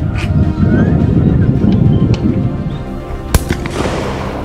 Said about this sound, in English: Shot Mr. P